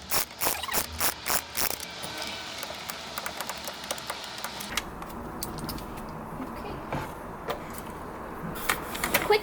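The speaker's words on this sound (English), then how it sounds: "let's grab our Ratchet and 21mm socket to remove the wheel" A ratchet fitted with a 21mm socket works loose a steering wheel bolt, giving a close, fast, rhythmic clicking in quick bursts that ease into steadier, lighter ratcheting with scattered clicks.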